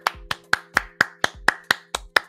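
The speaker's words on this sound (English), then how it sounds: "Round of applause for our man, Nicholas." One person clapping close to the microphone during a live Bitcoin price stream, ten sharp, evenly spaced claps at a steady rhythm with no talking.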